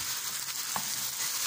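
Green fava beans sauté in a pan with a constant close sizzle, broken by one brief stirring scrape partway through.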